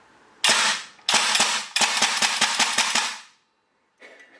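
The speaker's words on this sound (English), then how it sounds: "I'm just going to take my first shots with the UZI now" A Northeast Airsoft UZI MP2A1 airsoft gun fires its first shots: a few sharp single cracks, then a rapid burst of snappy reports, loud and close, with a fainter rattle trailing after.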